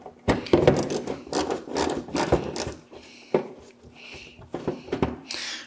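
Ratchet clicking and scraping while fender liner bolts are removed from a Toyota Supra, irregular close bursts of mechanical rasping and knocks with short pauses between turns.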